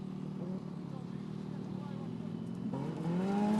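A Pro R race car at a desert rally prologue in Abu Dhabi runs through a corner, its engine note rising as it approaches from a distance, heard faintly beneath a commentator talking.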